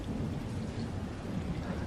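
Steady rain with rumbling thunder from a thunderstorm in the 1957 film 12 Angry Men, a continuous dense wash of downpour with low rolling rumble, no voices.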